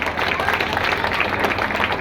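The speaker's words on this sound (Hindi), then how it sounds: "डॉक्टर बाबूलाल जी शर्मा, तालियों से स्वागत करेंगे बैठे हुए लोग" A seated audience at a Bhagwan Parshuram tableau event claps in welcome for Dr. Babulal Sharma, a dense, steady burst of applause filling the moment.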